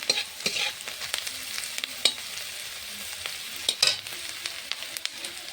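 A close, constant hiss of salted onions browning in a pan, punctuated by irregular scraping and clattering as they are stirred, with a couple of louder knocks and no speech.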